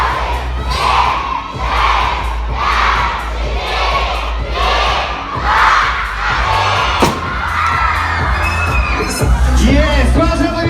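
Crowd at a concert in the Kulakovsky Palace of Culture, Yakutsk, shouting loudly and continuously around a stage cannon, with one sharp bang partway through and the cheering carrying on after it.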